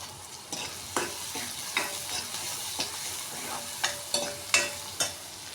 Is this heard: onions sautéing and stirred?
yes